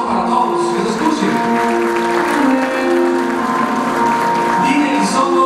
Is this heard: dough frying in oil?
no